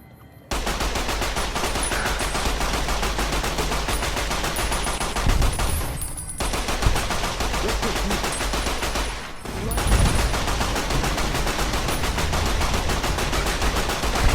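Sustained gunfire from the video game Fallout: New Vegas, dense rapid bursts running almost continuously at loud, close range, with two brief dips in the shooting.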